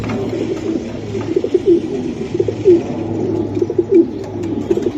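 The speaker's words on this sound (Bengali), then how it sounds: "এটা অরিজিনাল বিডার কবুতর" Racing pigeons coo from inside a cage, soft throaty calls rising every second or so over a steady low murmur of other birds close by.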